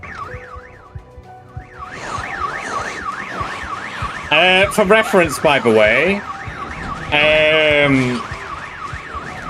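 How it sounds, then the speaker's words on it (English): A video game alarm wails in a steady rising-and-falling siren pattern through the whole stretch, loud and continuous, while someone talks over it in bursts. "that alarm going off"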